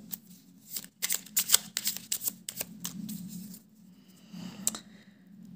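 Tarot cards being cut and shuffled by hand, a close series of crisp riffling flutters and slaps in quick bursts, fading to softer handling toward the end, with no talking.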